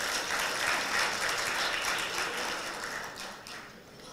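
Audience applause for youth participants at the closing ceremony of an interfaith forum, many hands clapping steadily with a crisp, rattling texture, gradually thinning and fading toward the end.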